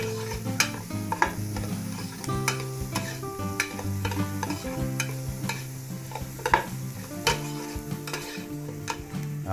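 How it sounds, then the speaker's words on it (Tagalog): Onion, garlic and ginger sautéing in a pan for beef pares, with a soft continuous sizzle and repeated sharp scrapes and taps of a utensil stirring, over steady tonal background sound. "Luto-lutuin lang po natin yung sibuyas"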